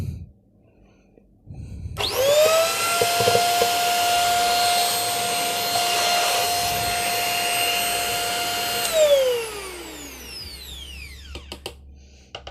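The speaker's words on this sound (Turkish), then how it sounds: "Hadi bismillah deyip çalıştıralım bakalım." A Sinbo SVC-8616 electric upright vacuum cleaner switches on with a rising whine, runs as a steady loud motor drone for about seven seconds, then spins down with a falling pitch as it shuts off.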